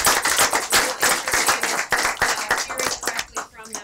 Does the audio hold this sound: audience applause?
yes